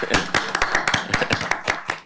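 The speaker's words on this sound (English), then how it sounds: "go ahead with the applause" Sparse clapping at a school board meeting: a handful of distinct, fairly close hand claps in an uneven rhythm, a small group rather than a full crowd, with no talking.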